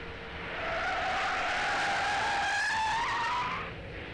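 A car accelerates at full throttle with its ASC stability control working, making a rising engine whine and tire squeal that swell up, hold loudly for a few seconds, then fade.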